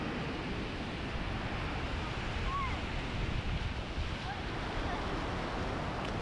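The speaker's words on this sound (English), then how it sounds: "This is a very large beach, Ventura or Bentota beach." Surf washing steadily onto the wide sand of Bentota beach in Sri Lanka, a continuous broadband roar with wind buffeting the microphone throughout.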